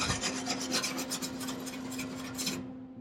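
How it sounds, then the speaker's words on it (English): A wire brush scrubs over welds on a Case 8840 windrower in steady, rhythmic back-and-forth rasping strokes, loud and close, then stops just before the end. "Try to wire brush that a little bit."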